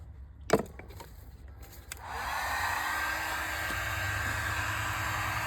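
Heat gun warming the outside of PVC pipe on a hot tub during jet body replacement: after a sharp knock and some handling, the gun switches on into a loud, steady blowing roar that holds to the end.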